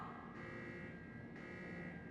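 Video game alarm tone sounding in two repeated pulses about a second apart, a faint electronic whine over a low ambient hum.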